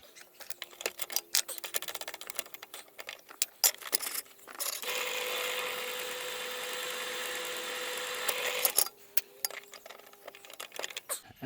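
A pilot drill grinds steadily into a centre-punched hole in metal for several seconds, framed by clinks, taps and handling of tools before and after.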